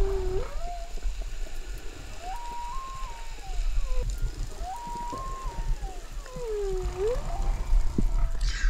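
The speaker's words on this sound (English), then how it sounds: "I could hear whale songs" Whale songs heard underwater while diving off Hawaii, long rising and falling moaning calls repeating several times, loud and clear over a low rumbling water hiss.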